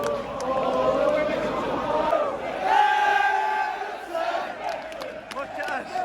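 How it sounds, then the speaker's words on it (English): Newcastle football fans outside the stadium before the match chanting and shouting en masse, a loud surging crowd roar with rising and falling chants and scattered whistles. "Look at this crowd."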